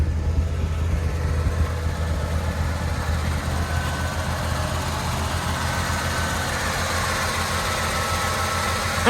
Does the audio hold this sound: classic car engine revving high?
yes